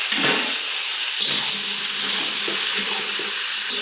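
Carrots and potatoes frying with asafoetida in a pan give a loud, continuous sizzling hiss, with spatula stirring clinks and scrapes breaking through at intervals, no speech.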